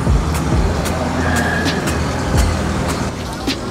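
BMW air suspension airing up at a car gathering at ACE Cafe: a steady, close air hiss that runs throughout, with scattered light clicks and traffic rumble underneath.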